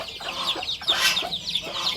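Hens cluck close by in a quick, uneven series of short calls that continue over the whole stretch.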